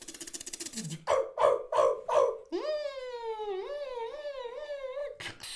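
A beatboxer mimics dogs with their mouth: a burst of rhythmic barks, then a long, wavering whine-like howl, ending in another sharp bark.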